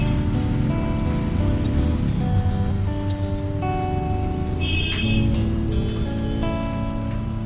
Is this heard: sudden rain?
yes